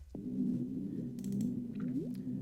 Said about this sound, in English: The second sound is this pad